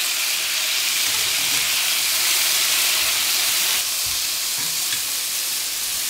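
Blanched broccoli and yam are stir-fried over high heat in hot oil with garlic slices, giving a loud, continuous, dense sizzle and crackle throughout with slight swells as the food is tossed, and no voices.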